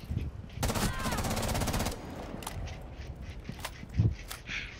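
In the video game Rainbow Six, a rapid burst of automatic gunfire sounds for about a second and a half, close and loud. Scattered sharper pops and game noise follow.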